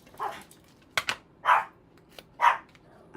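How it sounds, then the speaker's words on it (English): A dog barking indoors, with several separate barks spaced about a second apart and a couple of quieter short yips between them, close and clear against a quiet room with no talking. "and I apologize for my dog."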